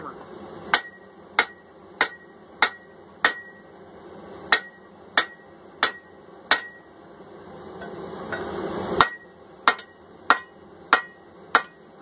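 A blacksmith's hammer strikes a drift through hot steel while forging a handled hammer eye punch, about a dozen loud, ringing metallic blows at a steady pace with a brief pause midway.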